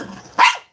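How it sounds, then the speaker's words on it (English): A single sharp dog bark rings out loud and close after a short stretch of quieter low sounds, then cuts off into silence. "No, we will not be barking."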